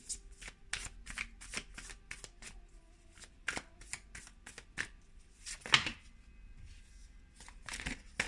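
A deck of tarot cards is shuffled in quick, quiet bursts of riffling and slapping, repeated rhythmically with short pauses between.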